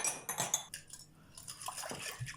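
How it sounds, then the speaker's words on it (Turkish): A spoon clinks and scrapes against a mixing bowl while sugar and dry yeast are stirred into warm water, several close, light metallic taps and swishes in short bursts with no talking. "Şekerle mayayı bir eritelim şöyle."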